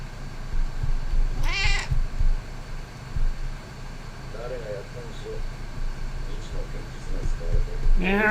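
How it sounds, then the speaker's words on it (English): A cat gives a couple of short meows over a steady background hum, with a person speaking in between. "Cat?"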